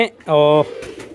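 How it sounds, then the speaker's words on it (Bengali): A pigeon gives a single short, close coo at feeding time, a brief steady call in the middle of an otherwise quiet moment. "ওকে, কবুতরগুলোকে খাবার পানিগুলো দিয়ে দিই।"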